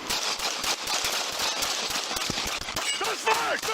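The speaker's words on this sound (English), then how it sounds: "Shots fired! Shots fired!" Gunshots fired during a police bodycam encounter, rendered as a dense fusillade of many rapid, sharp cracks that continue for the whole stretch, with a shouting voice in the background.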